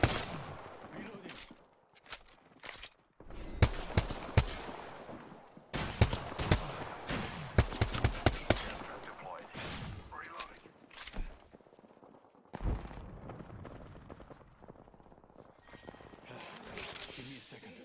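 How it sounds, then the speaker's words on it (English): Gunfire in the Apex Legends video game comes in repeated bursts of rapid shots, loud and close, with brief pauses between volleys and footstep-like clatter throughout; game voice lines are heard between bursts. "I'm taking shots. Taking fire."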